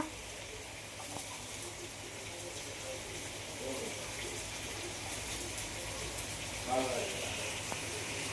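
Rice is washed in water at home: a steady, quiet run of water with soft swishing and a brief splash of movement toward the end.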